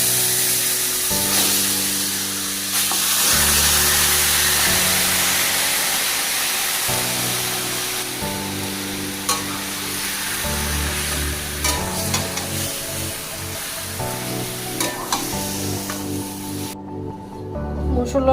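Chicken pieces hit a dry kadai with no oil, sizzling and crackling steadily for the whole stretch while music plays over it.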